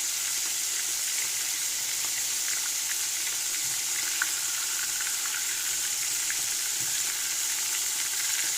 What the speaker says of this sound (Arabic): هتسمعي صوت القرمشة بتاعته وهو في الطاسة